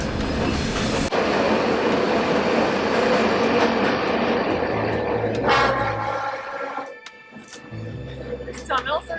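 Loud train rattle and rumble through a long tunnel in Albania, a dense roar that runs continuously before easing near the end, with brief metallic squeals and knocks and a voice talking over the noise.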